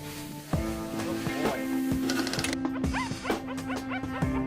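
A small dog stuck in a pool of molten rubber yips and whimpers repeatedly in short, close, urgent cries over background noise.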